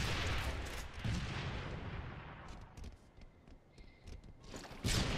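Rockets fire and explode in online Halo Wars capture-the-flag multiplayer on the Pit map, a dense rumbling barrage of blasts that fades and then surges again with a sharp boom at the end.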